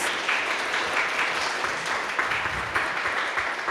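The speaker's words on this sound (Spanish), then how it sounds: "les pido por favor un aplauso a las y los participantes" An audience applauds the participants at a university lecture-series event, steady dense clapping from many hands sustained throughout, fairly close and even in level, with no talk over it.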